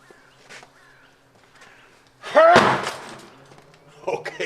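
A homemade wooden sword is punched against a car door, landing as one loud, close thud with a short metallic ring, with faint talk before it and scraping afterward.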